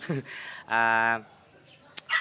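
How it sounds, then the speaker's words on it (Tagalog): A dog barks close by in short, loud, voiced bursts, with a brief yelp at the start and another bark near the end, over a quiet background. "Ingay ng aso."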